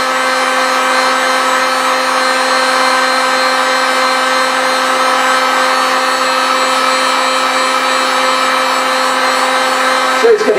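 A hot air gun blows steadily while drying a textile coating, a loud continuous whining roar with a steady hum that cuts off abruptly at the end.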